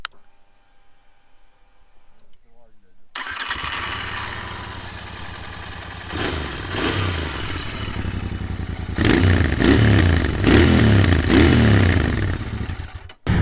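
A 2022 Royal Enfield GT 650 motorcycle fires up and idles with a throbbing exhaust note, then revs in several swelling blips, growing louder and more aggressive toward the end, heard close with no talk.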